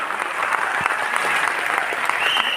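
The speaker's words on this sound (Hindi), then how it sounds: "जोरदार ताली होना चाहिए आप सभी के लिए।" Loud, steady applause from an audience at a motivational meeting fills the whole stretch, dense clapping without pause and no speech over it.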